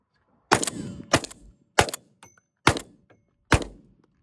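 A Mossberg 990 Aftershock or 940 Pro Tactical shotgun fires five sharp, loud shots in an uneven series, each a close blast that decays quickly.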